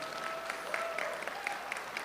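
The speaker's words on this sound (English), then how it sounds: "Let's give a round of applause to the venue" Applause from a crowd at a spring state championship event, steady and moderately faint, with scattered individual claps standing out over the broad wash of sound; a faint tone runs underneath.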